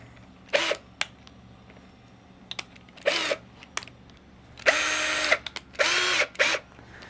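A power drill bores a hole while building a crop crimper, firing in four short whirring bursts separated by pauses, the last two longer and steadier, close up with faint background hum and light clicks.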